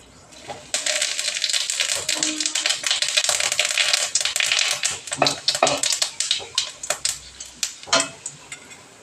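Cumin seeds and a bay leaf dropped into hot mustard oil crackle and sputter in a pan, a dense close sizzle with sharp rapid pops that thins into scattered spits, no talking.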